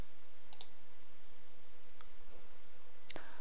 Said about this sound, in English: now I'll add a data series by clicking on the Add button